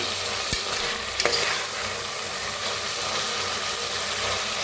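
Masala fries in oil in a pan for masala rice, a dense continuous sizzle close to the ear, with a couple of brief clinks from stirring early on and no speech.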